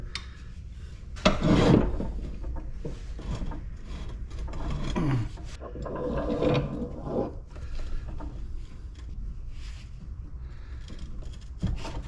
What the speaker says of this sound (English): I need to get this piece off. Maybe this pipe wrench will do it.